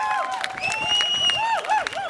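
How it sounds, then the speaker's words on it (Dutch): An audience applauds for Carla, with steady clapping and cheering and whooping voices layered over it for a couple of seconds. "ook een applaus voor Carla, die even haar event gaat promoten"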